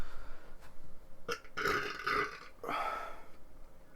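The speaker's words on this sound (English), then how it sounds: "Am I a terrible host for burping?" A man lets out a long, drawn-out burp close to the microphone, rumbling in a few pulses over several seconds in a quiet room.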